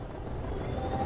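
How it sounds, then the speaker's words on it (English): A helicopter in the video game Half-Life 2 makes a low, continuous rotor and engine rumble, moderately loud and steady across a very short moment without speech. "That helicopter is just ridiculous."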